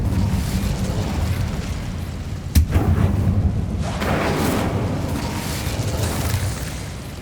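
Incendio fire spell cast in Hogwarts Legacy, a sudden sharp burst followed by a rushing whoosh of flame over a rumbling game background.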